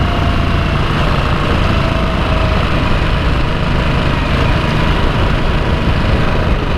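A Harley-Davidson Nightster motorcycle engine runs loud and steady during a ride with gear changes, a continuous close rumble with no pauses and no talking.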